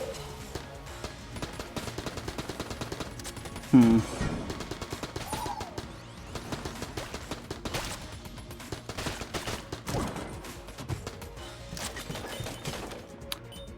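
Rapid gunfire from the Sidewinder gun in Enter the Gungeon, a steady run of quick shots under busy game music and effects, with a louder burst near the middle.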